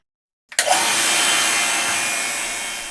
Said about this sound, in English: As soon as the vacuum pump starts up, it almost immediately starts pumping air out of the vacuum chamber